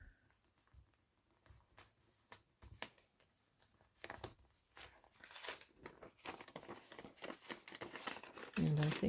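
Paper folded down in a handmade journal, with soft irregular crinkles and rustles close by, growing busier and louder toward the end.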